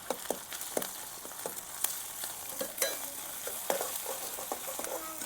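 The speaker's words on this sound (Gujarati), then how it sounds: "તેલમાં સરસ મજાનું મિક્સ કરી લેવાનું એટલે સ્વાદ સારો આવે" Fenugreek seeds being stirred into hot oil with turmeric and garlic chili for a Gujarati methi dana shaak, a steady sizzle broken by repeated sharp scraping strokes of a spoon against the pan, close and with no talk.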